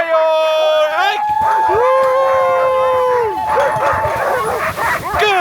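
Sled dogs yip, bark and whine in excited overlapping calls, loud and close, with howl-like rising and falling cries throughout.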